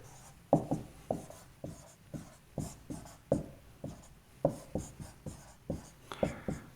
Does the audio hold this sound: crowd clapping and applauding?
no